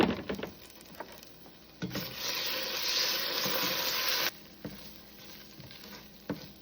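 Tomato paste sizzling and caramelizing in a stew pot for a harissa stew, a steady bright frying hiss with scraping stirs, a louder sustained stretch in the middle, then softer sizzling with occasional utensil knocks.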